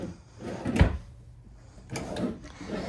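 Deep built-in desk drawer in a Keystone Sprinter 3210RLS RV slid open and shut, two distinct close wooden thumps and rattles about a second apart, with quiet room tone between and no talking.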